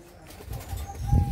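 Fantail pigeons in a backyard coop, with soft low cooing and a brief flutter of wings, close and fairly quiet, building slightly toward the end.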